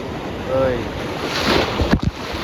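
Sea water splashes and surges around a small fishing boat out on the open water, a steady wash of spray and wind rumble with a sharper splash near the end.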